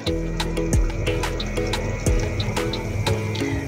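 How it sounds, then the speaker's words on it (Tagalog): A little water poured into a pot of pork head pochero with potatoes, the stream splashing and gurgling steadily with drips and clinks, close by, without talk. "Lagyan natin konti ng tubig."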